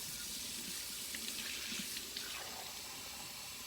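Tap water runs steadily into a sink while a soapy cup is rinsed out, a soft continuous splashing stream with faint sloshing.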